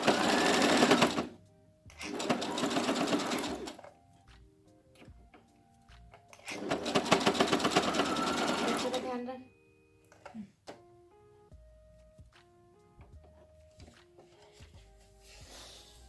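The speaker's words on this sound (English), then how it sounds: "So I'll just stitch it now." Sewing machine stitching a ruffle top, heard up close in three bursts of rapid whirring stitches separated by quiet pauses, followed by scattered small clicks and taps of fabric handling.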